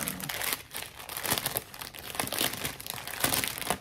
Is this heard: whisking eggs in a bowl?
no